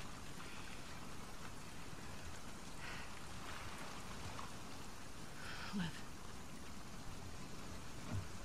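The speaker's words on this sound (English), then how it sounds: "Get out of the rain." Steady rain falls in the video game The Last of Us Part II, a constant soft patter on surfaces, with faint brief sounds and no clear talk.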